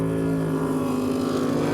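A jet sprint boat with a Stinger hull and Chev engine, run by a father-and-son team at a Meremere jetsprint round, drones steadily with a loud, continuous engine roar at a constant pitch.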